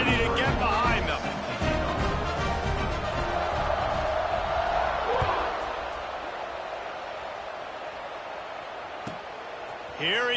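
A stadium crowd at a Florida State versus Georgia Tech college football game roars loudly at kickoff and then gradually fades, with a commentator talking over it.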